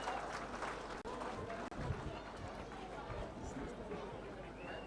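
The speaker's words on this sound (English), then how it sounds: "Ladies and gentlemen, a huge round of applause for her." An audience applauds a girl at a recitation competition event, a dense wash of clapping mixed with crowd chatter and speech, with two brief dropouts in the sound.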